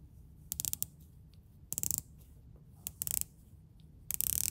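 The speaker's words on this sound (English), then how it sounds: "That is the sound of one of the best bezels I have ever handled." Rotating bezel on an AliExpress wristwatch turned by hand, giving quick bursts of sharp ratcheting clicks in four separate runs with quiet gaps between them, close and crisp, with no talk.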